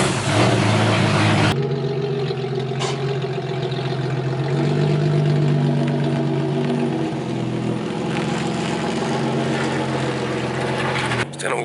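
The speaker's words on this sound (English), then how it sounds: "So I got the 240 started" A Nissan 240SX with a swapped VQ35 V6 runs steadily, a loud, close, continuous engine drone with strong low harmonics and no clear revving, while a person talks over it.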